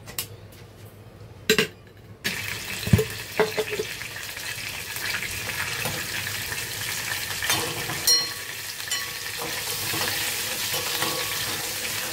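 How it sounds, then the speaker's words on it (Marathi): Onion and garlic fry in oil in a kadhai, giving a continuous close sizzle with stirring scrapes and occasional metallic clinks of the spoon against the pan. "कांदा आणि लसूण मस्त असं भाजून घ्यायचा"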